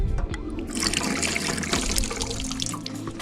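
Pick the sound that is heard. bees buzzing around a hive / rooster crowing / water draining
water draining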